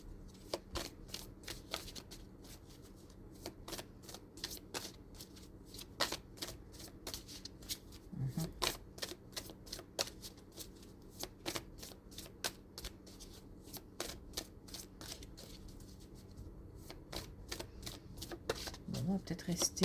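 A deck of oracle cards is shuffled over and over, producing rapid crisp flicking bursts in regular runs, close but quiet, with soft pauses between shuffles.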